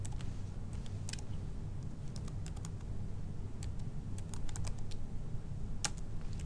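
Steady typing on a computer keyboard, a fast, uneven stream of close key taps and clacks running throughout, with no voices over it.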